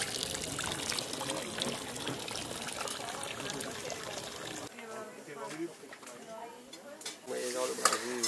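Water splashing and trickling as hands are washed at a palm-tree-trunk basin, with a voice talking over the running water, which stops partway through and leaves a quieter patch of splashes and drips.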